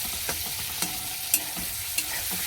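Spices for a potato curry (aloo dum) fry in a pan with a continuous close sizzle, punctuated by four light spatula taps and scrapes.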